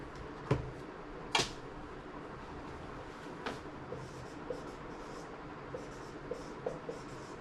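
Pen strokes of someone handwriting parentheses and a maths expression, with a few sharp taps followed by soft, faint scratching marks at an irregular rhythm in a quiet room.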